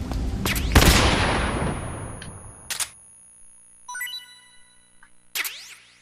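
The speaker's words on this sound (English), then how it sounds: "Stun grenade all the bats." In the Metal Gear Solid 3 video game, a stun grenade is thrown at bats and goes off with a sharp burst that fades away. A few crisp clicks and ringing effect tones follow.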